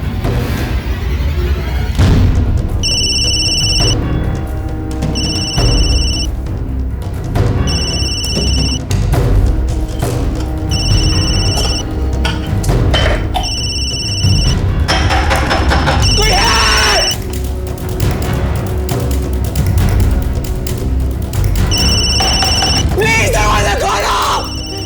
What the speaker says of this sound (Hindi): फोन की आवाज तो अंदर से आ रही है